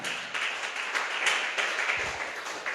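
A church congregation claps together in steady, continuous applause offered to God, a dense, even patter of many hands filling the room throughout.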